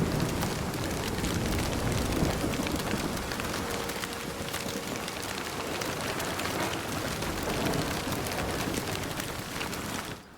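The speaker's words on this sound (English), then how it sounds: "you just hear the raindrop, you hear the hail hit the ground" Rain and hail pelt the ground in the survival game Nightingale, a loud, continuous dense patter with sharper impact ticks scattered through it and no voices.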